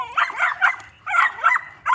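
A little toy mixed-breed mutt yaps and whimpers in high-pitched bursts, three clusters of short barks at close range with brief pauses between them.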